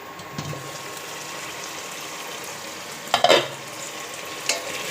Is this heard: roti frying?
yes